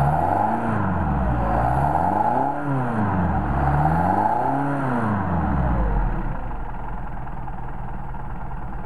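A Mercedes 190SL engine fed by a Solex carburetor revs in smooth rising and falling swells, two or three loud sweeps of engine pitch before settling to a lower steady drone, with no voices.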